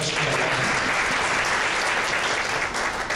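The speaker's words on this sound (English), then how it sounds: "Let's give ourselves a round of applause." Dense, even clapping from an assembly audience at a session in Fresno, loud and continuous for about three seconds with no pauses.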